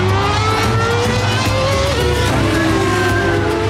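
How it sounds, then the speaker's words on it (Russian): Formula 1 Grand Prix race cars roar through Monaco, a dense, loud and continuous engine drone with rising and falling whines layered over a deep rumble and no pause throughout. "Когда его сон прерывает рев моторов Гран-при Формулы-1."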